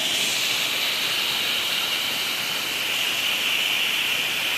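Steady, dense rush of falling water from a nearby waterfall fills the whole stretch as an unbroken hiss, loud and even throughout, with no voices.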